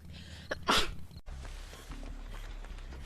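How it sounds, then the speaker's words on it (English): A single sharp, loud sneeze bursts out near the start, followed by a brief silence and then quiet room noise with faint low rumbling. "Actually, I'm gonna sneeze."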